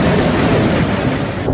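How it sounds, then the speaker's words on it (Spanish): Loud, deep thunder rumbling during a storm with heavy rain, a single sustained roll filling the moment without any voices. "Mucha agua, pero también truenos."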